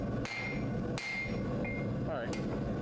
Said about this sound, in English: Gonna start forging.